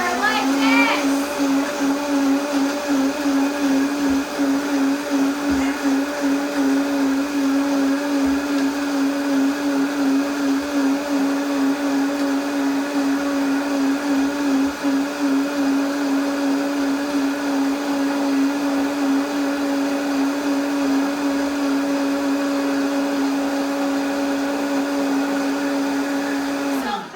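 A blender whirs steadily as it blends almonds for homemade almond milk, a loud, continuous motor drone close by that holds the same pitch throughout.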